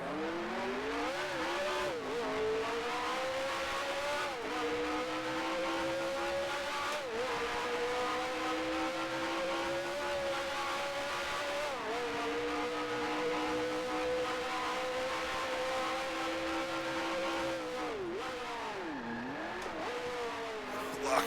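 A vintage Grand Prix car in the Grand Prix Legends racing game, its engine droning and revving continuously with pitch shifts and dips as tires lock up and skid into a corner.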